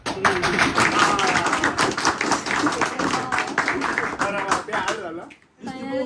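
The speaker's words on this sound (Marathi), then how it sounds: "चिंगूस माणसावर टाळ्या वाजवा" A small group claps hands together in a steady, fairly loud patter through most of the stretch, mixed with talk and gift-unboxing chatter, before a brief pause and a resumption at the end.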